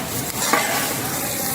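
Poppy seeds being stirred and dry-roasted in a pan for healthy laddus, a steady close sizzling hiss with a faint scrape of the spoon and no speech.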